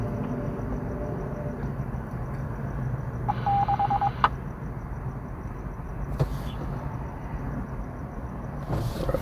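A mobile phone gives a short electronic tone lasting under a second, fairly faint over a steady low rumble of night traffic in Los Angeles.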